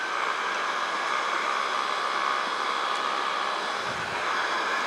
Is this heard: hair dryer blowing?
yes